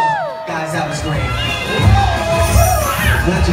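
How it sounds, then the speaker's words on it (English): A crowd at a Magic Kingdom show in Disney World cheers, whoops and applauds. The noise is loud and sustained, with an announcer's voice audible over it. "Give yourself a round of applause."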